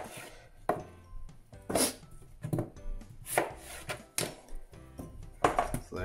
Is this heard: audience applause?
no